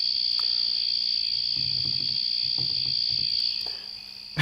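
Cricket chirping played from a phone app: a steady high-pitched trill runs throughout, with soft low thumps and handling noise beneath and a brief knock at the end.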